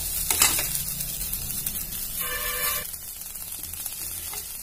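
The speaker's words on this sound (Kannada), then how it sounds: "ಈ ಪುದೀನ ಮತ್ತೆ ಕೊತ್ತಂಬರಿ ಸೊಪ್ಪನ್ನು ಇದರಲ್ಲಿ ಸ್ವಲ್ಪ ಬಾಡಿಸ್ಕೊಳ್ತೀನಿ" Mint and coriander leaves sautéing in a pan, a steady close sizzle with a few stirring scrapes and a brief clink of utensils, no talking.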